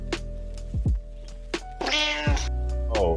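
A cat meows twice at a feral and stray cat feeding spot in Long Beach, California, the cries close and clear against a steady low background hum.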